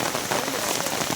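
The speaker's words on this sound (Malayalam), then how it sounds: "പക്ഷെ നല്ല മഴയുണ്ട് ആക്ച്വലി" Heavy rain pelting down outdoors during river fishing in Kerala, a loud, close, dense roar of drops striking surfaces, steady and unbroken.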